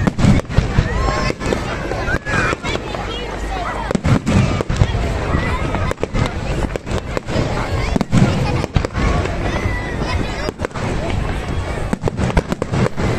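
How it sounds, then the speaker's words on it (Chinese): Fireworks set off from Bournemouth Pier on the seafront pop and crackle continuously in dense rapid bursts, loud and sustained, with crowd noise and voices mixed in. "而家开始放烟花啦，喺 Bournemouth Pier 嗰度放出嚟嘅"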